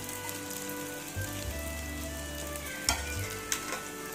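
Bread slices toast in ghee in a pan for double ka meetha, giving a steady low sizzle with soft scraping and a couple of sharp clinks from a spatula, close and fairly quiet.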